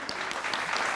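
Audience applause at a comedic political satire show about voter lists and elections, a steady crowd clapping that holds throughout and swells at the very end.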